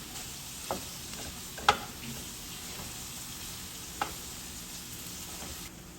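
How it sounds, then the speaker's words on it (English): Vegetables and mushrooms sauté on a hot grill, a steady close sizzle and hiss throughout, with a few brief clinks of a utensil stirring the pan. "So we are still sauteing our vegetables"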